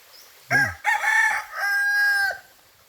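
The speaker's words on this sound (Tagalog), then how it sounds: "Tilawak pa ng manok, oh." A single rooster crows nearby, a loud, drawn-out call that rises and holds before cutting off, with quiet surroundings.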